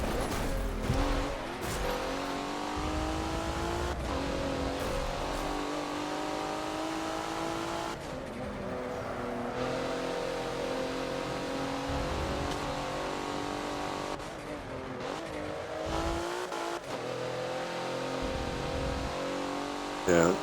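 A race car engine in the Forza video game at Road Atlanta revs and shifts continuously, rising and falling in pitch through gear changes, loud and steady throughout with brief tire noise.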